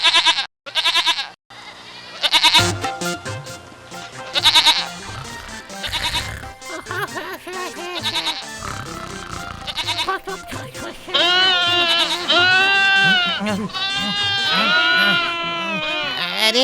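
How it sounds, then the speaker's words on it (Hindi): Cartoon goats bleat repeatedly in a noisy chorus, loud and close, over background music, with a voice talking among the cries. "ये सब बकरी इस तरह चिल्ला क्यों रहे हैं?"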